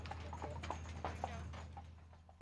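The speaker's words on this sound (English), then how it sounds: "Oh, I like the horses." Horses clip-clop down a street during a parade, a steady run of hoof strikes over a constant low hum and crowd background, moderately close.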